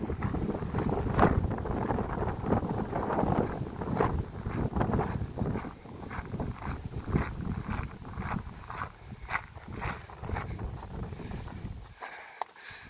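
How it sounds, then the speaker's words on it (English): Wind gusts outdoors, a steady broadband rush with buffeting that persists for most of the stretch, then drops away abruptly near the end as shelter is reached. "Getting here out of the wind a bit."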